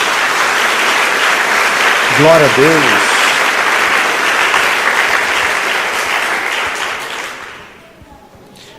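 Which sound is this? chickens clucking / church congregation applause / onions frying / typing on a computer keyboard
church congregation applause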